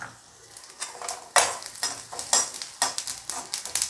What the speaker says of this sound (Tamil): முதல்ல இந்த பட்டை மிளகு சோம்பு நம்ம இதில் வதக்கிக்கலாம்.